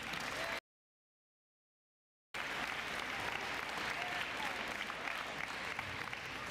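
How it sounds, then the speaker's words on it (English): Audience applause at a spring sports awards ceremony, a dense steady clapping from a large crowd that breaks off briefly near the start and then carries on evenly to the end. "let's clap for that"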